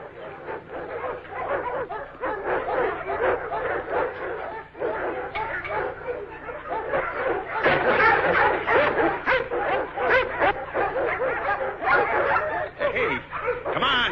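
Several puppies in a kennel yip, whimper and bark excitedly in a busy, overlapping chorus that keeps going without a break, close and fairly loud.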